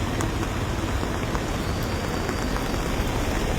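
Steady evening rain pours over Vadodara city under dark clouds, a dense, continuous hiss of drops striking surfaces with no voices and little variation throughout.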